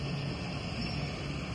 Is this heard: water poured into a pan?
no